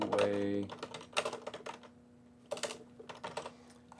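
Typing on a computer keyboard produces quick clusters of light clicks in short bursts with pauses between them, close and fairly quiet, under a steady faint hum.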